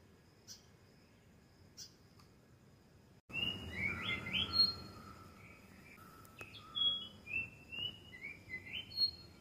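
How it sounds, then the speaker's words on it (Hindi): A white-throated fantail sings a series of thin, high chirping notes rising and falling, fairly close, with faint background hiss before it starts. "ये फैंटेल है, वाइट थ्रोटेड फैंटेल नाम है इसका"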